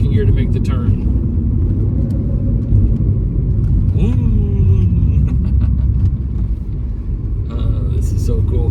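The engine of a 2016 Mini Cooper John Cooper Works with a six-speed manual drones loudly from inside the cabin, its pitch dipping and then rising again as the driver shifts down, while someone talks over it.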